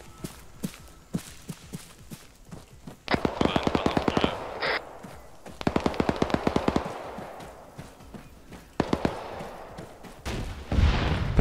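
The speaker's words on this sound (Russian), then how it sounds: "вот тут какая-то стрельба на моей синей метке, не знаю" Bursts of automatic rifle fire crackle in clustered volleys within the military shooter ArmA 3, several rapid strings of shots at moderate distance with quieter gaps between them and a voice talking faintly in places.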